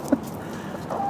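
A backyard hen clucks once briefly and close among a flock of 24 in a coop, followed by a faint high chirp.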